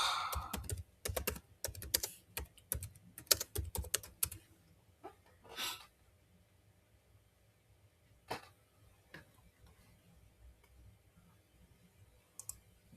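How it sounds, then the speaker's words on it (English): Typing on a computer keyboard: a quick burst of dense, irregular key clicks for about four seconds, then sparse single taps with pauses, all close and fairly quiet with no talking. "I'm just going to type it in"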